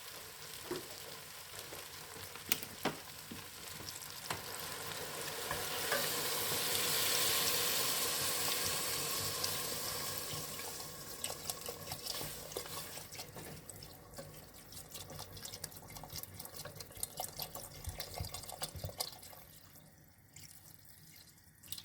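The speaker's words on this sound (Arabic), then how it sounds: "نضيف الماء اللي غادي يطيب فيه الخضره ديالنا" Water poured into a pressure cooker pot of vegetables for red lentil soup, a swelling rush of pouring that rises and fades, with drips, clinks and light bubbling afterward.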